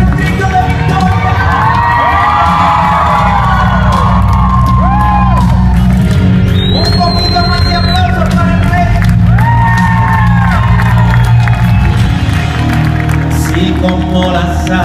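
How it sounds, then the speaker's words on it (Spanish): A church congregation shouting and cheering in victory during worship, loud continuous crowd roar with whoops and high cries over a sustained musical drone, close and full throughout. "Yo quiero escuchar el grito de victoria."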